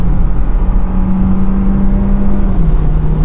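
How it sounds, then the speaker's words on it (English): The engine of a 2021 Volkswagen Jetta drones loudly and steadily as it accelerates on a highway, its hum rising slightly in pitch under road and wind noise. "the engine really feels like it's straining to do its job"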